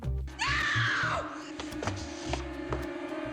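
A woman screams off camera in the 1977 film Damnation Alley: a single loud, rising then falling shriek over a rumbling soundtrack with clanking effects.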